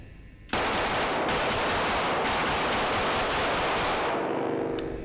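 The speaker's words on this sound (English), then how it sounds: "Just pulling the trigger, holding it down, and letting it rip." A Kriss Vector SDP Gen 2 9mm firing full-auto with the trigger held down, one long, loud, rapid stream of shots that runs for several seconds with ringing echo and fades at the end.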